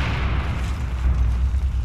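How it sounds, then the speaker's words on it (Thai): Heavy explosion in Battlefield 4 multiplayer, a continuous deep rumbling boom with broad noisy wash filling the whole moment, loud and close with no pause. "ระเบิดก่อนเลยระเบิดนำร่อง"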